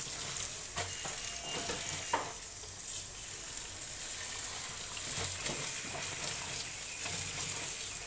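Leafy greens are rinsed in a kitchen sink basin, water splashing and churning steadily throughout with occasional sharper swishes and clatters, close and continuous with no talking.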